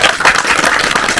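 Audience in a small cinema clapping after a post-screening talk, a dense, steady wash of many hands that stays loud and even throughout the short stretch.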